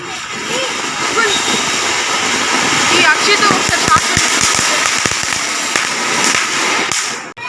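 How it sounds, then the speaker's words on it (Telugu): A Diwali firecracker bomb bursting in water gives a loud roar of churning splash and rumble with a rapid run of crackling pops in the middle, while people talk and shout over it. "ఒక కొత్త రకమైన బాంబు అయితే పేల్చడండి oh, నీటికి బ్రహ్మాండంగా పేలింది"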